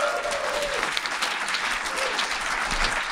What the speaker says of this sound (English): Please give me a round of applause for our guest, Bill Sienkiewicz.